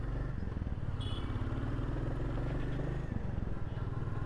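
A steady, close engine drone and road rumble from a 2025 Royal Enfield Classic 350 motorcycle while riding, continuous throughout with wind noise.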